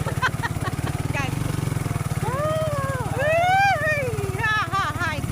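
Motorcycle engine running steadily throughout on a rural countryside trip, a constant low drone with voices talking and calling out over it.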